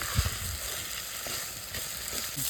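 Cauliflower stalks with turmeric and salt sautéing in a pan, a steady close hiss of sizzling with a few soft stirring thumps.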